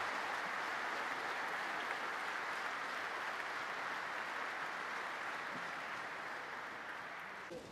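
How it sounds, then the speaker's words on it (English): A large audience at a battery factory foundation-stone ceremony gives a co-moderator sustained applause, a thick even wash of clapping that carries on steadily and fades slightly at the very end, with no talk on top. "This is your applause, Jupp Kaufer."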